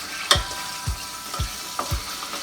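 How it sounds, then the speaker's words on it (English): Chicken sizzles and crackles steadily in a hot pan, with a few sharp pops and taps spaced through the hiss, close up with no talking. "In the meantime, we are frying the chicken."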